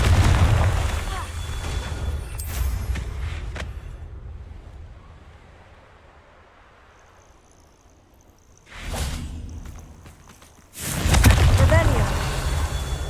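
Confringo fire spell blasts in Hogwarts Legacy, a whoosh and booming burst, then silence before two more loud explosive bursts near the end.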